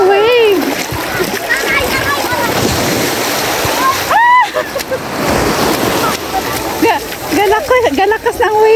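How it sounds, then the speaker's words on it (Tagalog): Strong ocean waves surge and splash at Dahican beach, a steady loud wash of surf with repeated crashing bursts, while voices shout and chatter excitedly over it. "Kusog ang wave."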